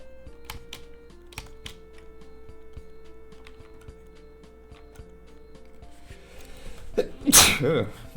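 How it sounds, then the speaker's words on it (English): A single sharp sneeze bursts out near the end, loud and close to the microphone, following several seconds of light clicking and tapping from a drawing setup. "That was a sneeze."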